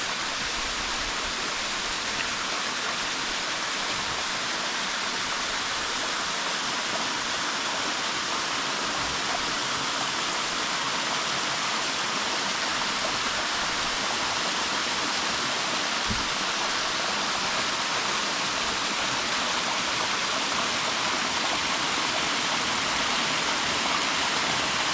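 A waterfall at Lake Malone, Kentucky roars in a steady, close, full rush of falling water, unbroken and without voices.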